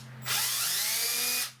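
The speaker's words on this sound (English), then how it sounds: "I'm going to drill a small hole for the wire" A power drill bores a small hole through a little tab for a wire, one continuous high whine lasting just over a second, starting and stopping abruptly, close and alone.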